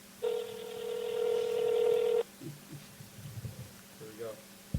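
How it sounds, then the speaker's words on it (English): A telephone call rings through with one long, steady electronic tone, followed by faint voices and low murmuring on the line. "We want to listen to Ricky's voicemail"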